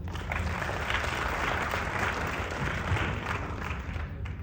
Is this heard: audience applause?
yes